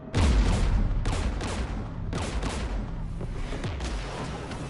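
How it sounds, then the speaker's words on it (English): Heavy sustained gunfire from Geth anti-aircraft guns beside a jamming tower in a sci-fi video game, a loud continuous barrage with sharp bursts roughly every second layered over a deep rumble. "We're taking fire."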